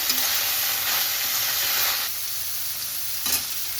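Pumpkin stalks fry in a pan with a steady, close sizzle while being stirred, the crackle easing slightly partway through and a brief scrape of the spoon near the end.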